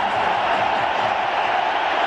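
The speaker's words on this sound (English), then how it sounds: "There's a buzz around the ground." A cricket stadium crowd during a match, a steady, even roar of many distant voices merging into one continuous buzz with no distinct cheers standing out.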